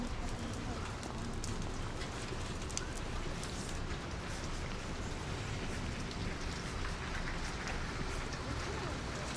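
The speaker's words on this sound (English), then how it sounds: "It's raining bad, guys." Steady heavy rain pouring down in St. Petersburg, a dense, constant wash of drops with no letup, heard close and fairly loud throughout.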